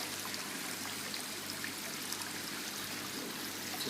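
Water trickles steadily through a small rock waterfall aquarium, a soft, even splashing and babbling that stays constant and close, with no one speaking.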